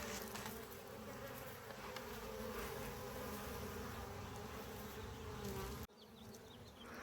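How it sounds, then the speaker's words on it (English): A dense, continuous hum of bees swarms around a hive built through a dune buggy tire, the drone steady and close before dipping suddenly near the end. "As we smoke, the bees tend to move away from the smoke, kind of revealing the hive"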